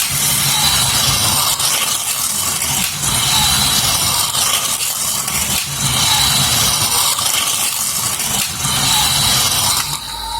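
Circuit 24 toy slot cars, a grey one and a white one, run around a plastic racing track, giving a steady, loud whirring buzz of small electric motors that holds almost unbroken for the whole stretch, dipping briefly now and then.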